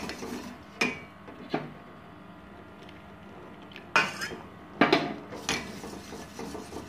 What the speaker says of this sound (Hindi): हम इसमें थोड़ा थोड़ा करके ऐड करते जाएंगे और मिक्स करते जाएंगे।